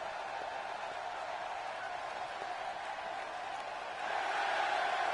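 Arena crowd noise in the wrestling video game WWE 2K16, Santa Clara crowd reacting to a match; a dense, continuous roar of cheering that holds steady and grows louder near the end.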